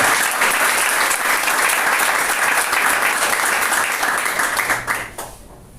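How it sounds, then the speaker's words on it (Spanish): A church congregation gives a loud, sustained round of applause, many hands clapping densely for several seconds before it tapers off and fades near the end. "Denle un fuerte aplauso al Señor"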